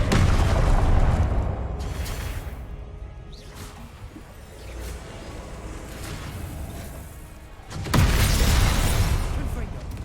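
Confringo and Expelliarmus spells are cast in Hogwarts Legacy, producing loud booming blasts and whooshing hits, with one strong impact near the start and another near the end. Game noise fills the gaps between them.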